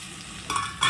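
Tomatoes dropped into a hot frying pan for upma, giving two quick bursts of sizzling and stirring over a quiet background.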